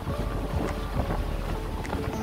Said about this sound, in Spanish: Aquí vamos en la lancha a dar una vuelta